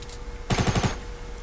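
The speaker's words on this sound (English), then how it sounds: "I use my tactical SMG to break down this tree" Rapid burst of about five tactical SMG shots fired at a tree in Fortnite, a quick rhythmic volley lasting under half a second, loud and close, with quiet game ambience before and after.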